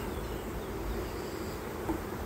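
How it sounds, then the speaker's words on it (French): Honeybees in a hive during a spring inspection, a low, steady, continuous hum close by with no voices, holding an even level throughout. "Le fait que ça bourdonne, que ça fasse beaucoup de bruit, c'est normal, puisque en fait les jeunes abeilles battent le rappel."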